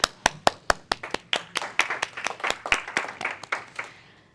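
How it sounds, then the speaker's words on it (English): Audience clapping at a speaking event, starting as a few sharp, separate claps and building into denser, overlapping applause, fairly close and with no voices over it. "let's clap."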